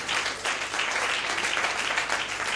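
A church congregation applauds steadily throughout, a dense, continuous clapping that fills the space at full level from start to finish, with no voices standing out.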